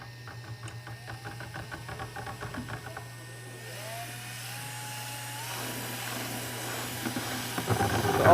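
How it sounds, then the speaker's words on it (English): A drill mixer whirs steadily as it blends alginate, a continuous high motor whine with a low hum beneath, growing rougher and louder toward the end. "be using a drill mixer just to make it easier"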